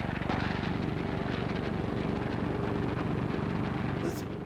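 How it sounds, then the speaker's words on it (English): Propeller engines of US bomber squadrons heading for Nazi Europe roar in a steady, throbbing, pulsing drone that continues loud and unbroken throughout. "the sight and sound of U.S. bomber squadrons heading for Nazi Europe"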